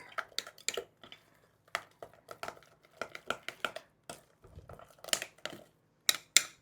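A spoon scrapes and clicks through thick shrimp fritter batter in a bowl, with irregular close taps and wet swishes in short bursts and no voices.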